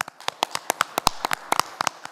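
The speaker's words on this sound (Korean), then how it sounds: "큰 박수 한번 부탁드립니다" Audience at a Korean local government development forum in Jeju clapping, a scattered run of sharp, close hand claps with no talk over it.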